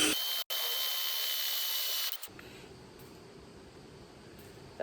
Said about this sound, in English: Let's drill 38 more holes and see what happens.